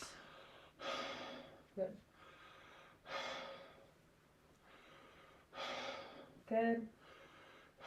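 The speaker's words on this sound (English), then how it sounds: "Okay, nice deep breaths." A patient takes deep breaths during lung auscultation in a clinical exam, with several slow, airy inhalations and exhalations spaced a couple of seconds apart, close and soft, as a clinician speaks brief words of encouragement in between.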